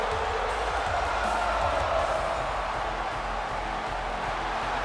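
In WWE 2K18 a wrestling arena crowd roars steadily, a dense, sustained wash of cheering with no breaks.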